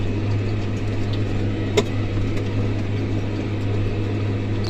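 A New Holland T6050 tractor pulls a four-furrow plough with a harrow across a field on a frosty morning, its engine a steady, close, low drone with little change.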